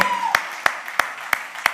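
Applause at the Mirzapur Season 3 trailer launch event, with sharp, evenly spaced claps punctuating a steady crowd murmur, and a brief voice at the start.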